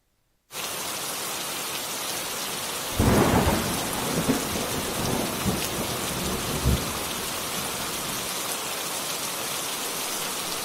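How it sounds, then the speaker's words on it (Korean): Steady heavy rain hisses without pause, with a deep roll of thunder swelling midway and fading back into the downpour; no voices. "비가 온다."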